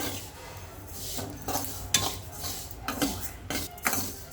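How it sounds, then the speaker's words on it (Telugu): Sesame seeds dry-roasting in a pan as a spoon stirs them, making repeated scraping strokes and light metallic clinks close by, with no talking. "ఇలా నువ్వుల్ని వేపుకుందాం లైట్గా"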